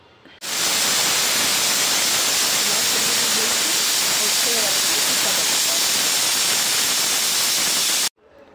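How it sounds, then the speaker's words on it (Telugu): Salted peanuts boil in a pressure cooker, releasing a loud, steady steam hiss that starts abruptly, holds constant for about eight seconds, then cuts off sharply. "పల్లీలను ఒక కుక్కర్లో వేసి కొంచెం సాల్ట్ వేసి ఉడకబెట్టుకోవాలి"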